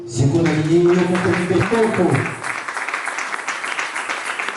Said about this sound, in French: je voudrais que tu acclames d'abord pour toi-même